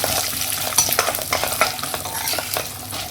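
Dried red chillies are stirred in a hot pan for raw mango rice, the oil sizzling steadily beneath a series of close scraping stirs and clinks of the spoon against the pan.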